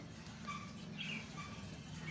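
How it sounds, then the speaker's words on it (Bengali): Small birds feeding on a rooftop give faint, scattered chirps over a low, steady background hum, distant and quiet. "দেখুন, পাখিগুলো কি আনন্দ করছে, মজা করে খাচ্ছে"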